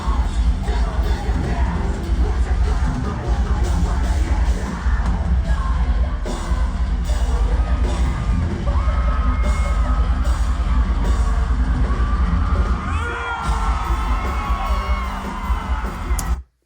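A crowd in a nearly sold-out arena at a live music performance yells and cheers loudly and continuously, a dense, close roar with scattered whoops and shouts.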